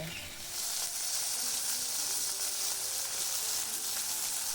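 Fish and potatoes fry in a pan, giving a soft, steady hiss of sizzling oil at low level, continuous and even throughout without talk.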